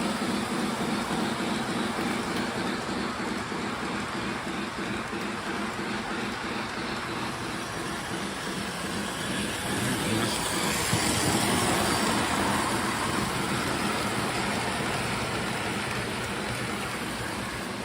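A continuous rumbling, whirring motor noise from a Lionel Polar Express toy train runs steadily throughout, chugging along its track, with a broad hiss layered on top.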